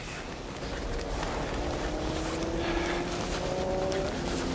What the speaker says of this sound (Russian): Ну, где-то мотоцикл шумит.